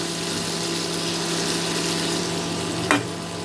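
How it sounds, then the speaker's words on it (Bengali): Tomato and okra frying in a pan for a curry, giving a steady, even sizzle that continues throughout at close range, with one brief clatter near the end. "এখন আমি আরও দু মিনিটের জন্য এই টমেটোটা আর ভেন্ডিটাকে একটু ভেজে নেব"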